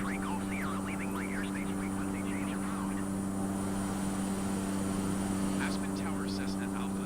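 A Cessna Caravan propeller aircraft in a flight simulator game gives a steady, droning engine hum throughout, with faint chirpy radio-style voices drifting over it.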